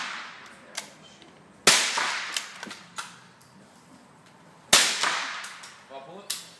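Gunfire at an outdoor shooting range: two sharp, loud reports stand apart, each trailing off in a long echo, with a few fainter pops and clicks from other shooters in between.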